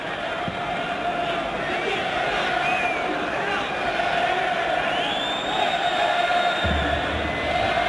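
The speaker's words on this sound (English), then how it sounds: "the chant from the crowd is for Messi" A large football stadium crowd at a Barcelona vs Elche Copa del Rey match chants for Messi, a steady, roaring wall of massed voices that swells slightly and never lets up.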